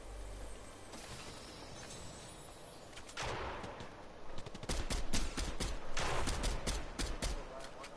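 Rapid gunfire rattles through a video game, with dense bursts of shots building toward the end over a constant game soundscape.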